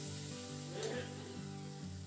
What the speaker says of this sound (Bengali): এরপর সমস্ত মশলাটাকে নাড়াচাড়া করে খুব ভালো করে কষিয়ে নেব যতক্ষণ পর্যন্ত মশলা থেকে তেল ছেড়ে আসে।